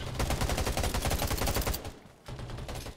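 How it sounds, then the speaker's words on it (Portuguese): Rapid bursts of gunfire from an ally in the zombie survival game Undawn, sustained automatic shots that break off briefly and then resume, loud and continuous. "Olha lá ele atirando."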